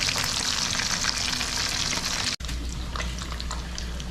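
Tilapia sizzles steadily in hot oil in a pan, a dense, close crackle that holds for about two seconds, briefly cuts out, then resumes at the same level with no talking.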